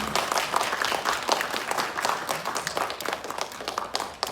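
Warm applause from a seated audience at a memorial ceremony for General Choi Un-san, right after a musical tribute; dense, steady clapping that carries on through the whole stretch without voices.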